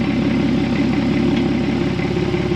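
A Porsche Cayman S 987.2 idling with its sports exhaust valves open, a steady deep rumble with even low pulsing, close and alone.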